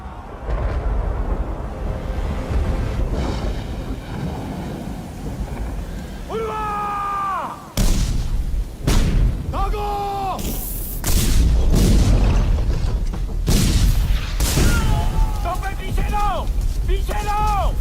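Several heavy cannon booms go off in a loose volley, loud and close, with voices shouting between them and tonal musical cries rising over the din.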